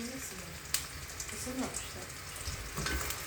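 A hamburger patty sizzles and crackles steadily in hot oil in a home kitchen, the frying noise close and continuous with a few sharper pops, while people talk quietly nearby.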